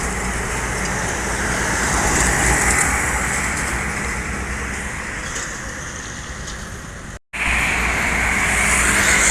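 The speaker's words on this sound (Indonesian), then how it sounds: "didominasi oleh kendaraan-kendaraan tonase besar, angkutan barang ekspedisi" Steady, dense roar of heavy trucks and freight lorries rushing past on a highway, loud and continuous with a brief sharp dropout near the end.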